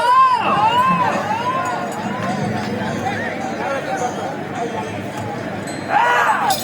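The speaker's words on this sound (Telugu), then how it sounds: "కేకలు కేరింతలు" A crowd at a senior-category pair competition shouts and cheers loudly and continuously, with yelling voices rising and falling and a fresh burst of whoops near the end.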